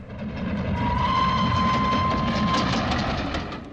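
An express train approaches and passes close by, a broad rumbling roar that swells, holds steady with a faint tonal whine, then eases off over a few seconds, with no voices.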